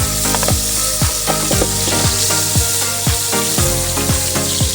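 Onions fry loudly in a hot pan with a constant bright sizzle, broken by regular scraping strokes of a utensil stirring them, close up and without talking.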